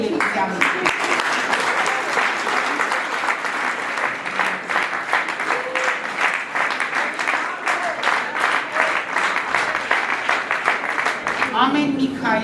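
An audience applauds a teacher at a school last-bell ceremony, giving loud, sustained clapping from a large crowd that swells slightly near the end, with a voice faintly audible underneath.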